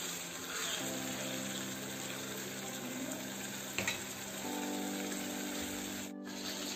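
Chicken liver fries in oil while being stirred, giving a steady low sizzle with occasional scraping stir strokes and a brief clatter near the end, with no voices.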